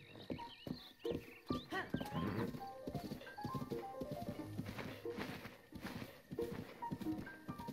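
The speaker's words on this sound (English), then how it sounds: "A bunch of horses." Several horses walk in the game Breath of the Wild, with steady clip-clop hoofbeats, a brief whinny and layered game music and effects throughout, no talking.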